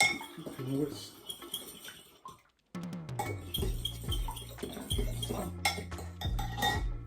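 A milk mixture for bread and butter pudding is stirred in a bowl, a utensil clinking and scraping against the dish close up, with a brief pause before the clinks resume more steadily.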